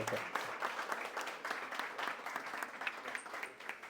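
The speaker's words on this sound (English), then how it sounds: "Now, oh yeah, go ahead, clap. Go ahead." An audience claps after a panel discussion on the Washington DC hospitality industry, a moderate, somewhat uneven round of applause from a modest crowd, heard alone without talk.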